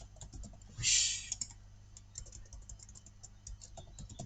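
Light, quick clicks of typing on a computer keyboard, close and soft, in an uneven run of keystrokes with one brief louder hiss near the start and no talking.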